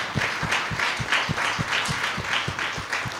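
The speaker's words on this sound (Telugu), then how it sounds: "క్లాప్స్ ఇవ్వాలా మనం గట్టిగా." Audience at a church training session in Palakonda clapping loudly in a steady rhythmic beat, about three claps per second, close and sustained with no talk over it.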